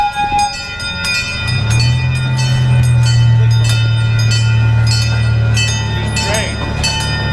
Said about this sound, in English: Look at this. Ah, here comes a train.